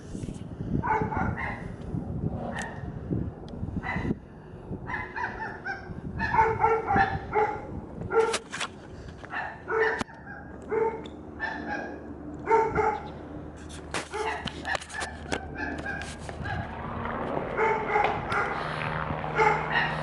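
Dogs bark repeatedly near a house with RV driveways, a run of sharp, fairly close woofs and yips scattered across a busy outdoor scene, with some whimpering.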